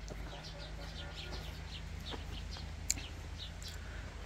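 Birds chirp in an apricot orchard in Andijan, Uzbekistan: faint, scattered short tweets repeat through the clip over a soft outdoor hiss, with one sharper chirp standing out.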